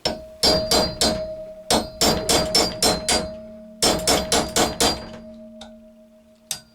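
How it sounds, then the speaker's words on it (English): Repeated sharp metallic hammer strikes on a pin punch held at an angle against an Americana lock, in quick clusters of three to five blows with brief pauses between, close and loud. "just put your pin punch at an angle and just take your hammer"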